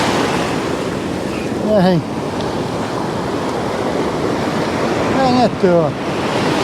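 Surf breaks steadily on a beach at Blackdog in Aberdeenshire, a loud continuous wash of water with gusting wind, while a voice speaks briefly and gull-like calls cut through twice.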